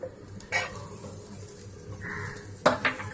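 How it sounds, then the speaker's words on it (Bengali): Butter going into a heated nonstick pan for butter chicken gives a soft, faint sizzle with a few brief clinks and stirring scrapes of utensils against the pan, close by and with no talking. "কিছুটা বাটার এখানে আমি দিয়ে দিচ্ছি।"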